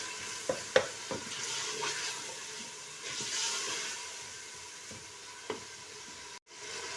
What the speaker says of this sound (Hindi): इन्हें 1 आधा मिनट हम भूनेंगे